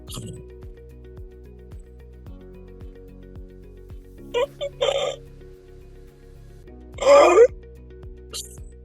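A doctor imitates snoring that breaks into choking and gasping, as in obstructive sleep apnea; a few rough vocal bursts and a louder strained gasp rise over a quiet background with a faint rhythmic ticking.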